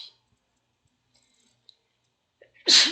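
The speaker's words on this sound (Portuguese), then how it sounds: "pausa para espirro" Near silence, then a single sharp, loud sneeze bursts out at the very end.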